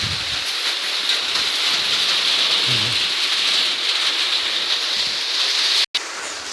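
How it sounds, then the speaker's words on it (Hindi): Steady heavy rain pours down in a dense, continuous hiss, with a brief dropout near the end. "इधर देख लीजिए बारिश जोर से आ रहा है"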